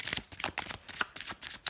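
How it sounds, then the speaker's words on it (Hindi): A deck of tarot cards is shuffled by hand, a run of rapid riffling bursts and flutters in quick, uneven succession, close and fairly loud. "शफल करने में बहुत ज़्यादा आवाज़ आती है"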